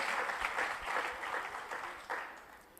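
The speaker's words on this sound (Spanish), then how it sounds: "¿Cuántos le dan un aplauso al Señor?" A church congregation claps for a few seconds during a sermon, a fairly soft, even round of applause that tapers off toward the end.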